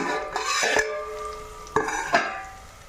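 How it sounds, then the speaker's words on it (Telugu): Onion pieces salted and frying in a pan, stirred with a few clattering scrapes of a spoon against the metal over a soft sizzle, close by and short. "ఉల్లిపాయ ముక్కలు దోరగా వేగావండి"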